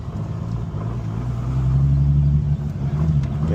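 Loud race car engine at Sonoma Raceway, a steady deep droning rumble that swells slightly in the middle, heard close from inside or beside the car with no talk.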